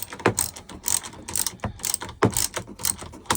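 A ratchet tightens 10mm bolts on a cab heater mount in a 2025 CFMoto U10 Pro XL, giving close, crisp clicking bursts in short repeated strokes.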